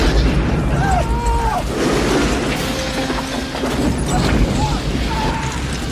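A heavy, continuous rumble of explosions and fire roars loudly throughout, with a voice talking over the din.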